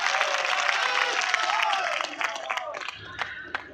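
A large crowd at a rally applauds in a dense, steady wash of clapping that gradually thins out toward the end, with a voice speaking over it.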